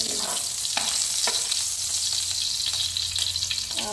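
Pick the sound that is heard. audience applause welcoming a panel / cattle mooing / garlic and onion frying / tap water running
garlic and onion frying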